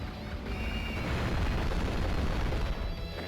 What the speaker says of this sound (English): The way the war tank explodes is so appealing to the eyes.